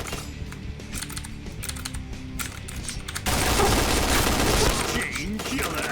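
Gunfire in the video game Point Blank, with rapid bursts of shots and clicky keyboard-like taps, then a dense, louder volley in the second half, mixed with game sounds.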